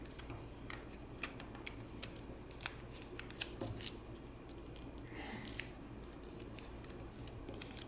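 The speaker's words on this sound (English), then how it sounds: "now you're going to fold all of these corners" Origami paper is creased as its corners are folded into the center on a hard surface, producing scattered crisp crackles and light taps over a steady low background hum, close by and fairly quiet.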